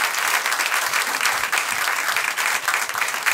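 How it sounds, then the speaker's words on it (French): An audience gives a sustained, lively round of applause for the musicians at a church service, thick continuous clapping filling the room at a steady, fairly loud level with no talking. "Si vous leur donniez un petit peu d'applaudissements peut-être"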